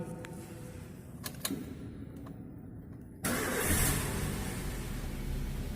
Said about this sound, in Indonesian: Sebelumnya kita start dulu mesin.